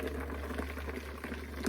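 Juice poured through straining bags, a steady close liquid rush and splash under a low hum, without a break.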